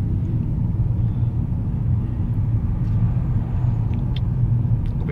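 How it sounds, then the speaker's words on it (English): A coach travels along a country road near Colworth, its engine and tyres giving a steady low rumble heard from inside a moving car, constant and fairly loud with no talk over it. "oh there goes a bus. It's a coach actually"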